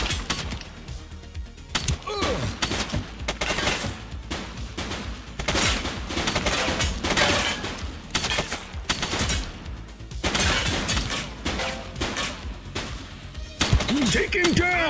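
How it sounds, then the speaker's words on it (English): Gunfire rings out in the police video game The Precinct as rapid bursts of shots crack in uneven volleys, mixed with voices shouting. "He's shooting!"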